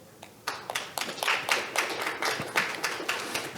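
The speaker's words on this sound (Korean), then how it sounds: "큰 박수로 맞이해 주시죠." A seminar audience on Korean Peninsula food security claps to welcome a speaker, a thin scattering of individual claps that builds after a brief pause into sparse, uneven applause from a small room, with no talking.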